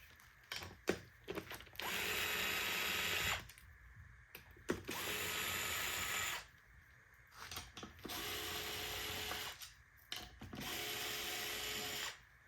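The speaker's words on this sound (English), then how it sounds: "we're going to remove the rail by removing these 4 bolts here." A power tool whirs in several sustained bursts, broken by short mechanical clicks and pauses, as bolts come out of the rail of a Floatwheel ADV electric board during a teardown; loud and close, with no talking.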